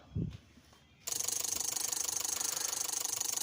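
A Daihatsu Gran Max is started during an ECU test: a short quiet spell of faint mechanical clicks, then the engine abruptly catches and settles into a steady, rapid, even idle throb, heard close with no talking.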